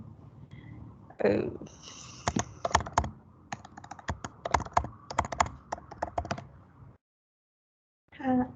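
Rapid keystrokes on a computer keyboard as a password is entered during an online chemistry class, sounding in quick irregular bursts close to the microphone, then a pause and a final short burst.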